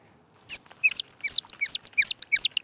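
Humpback whale song sped up 14 times: a rapid series of high, chirpy upward and downward sweeping calls, bird-like and squeaky, repeating in quick bursts with short gaps.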